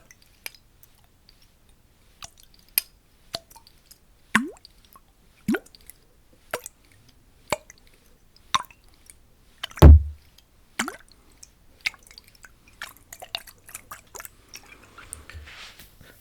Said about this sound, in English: I personally really like water sounds.